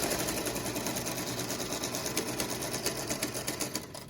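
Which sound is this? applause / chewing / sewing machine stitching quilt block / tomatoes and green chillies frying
sewing machine stitching quilt block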